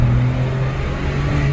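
A tuned VW Polo TSI Stage 2 with original muffler gives a loud, close, sustained engine note under acceleration, steady for the short stretch with no talking.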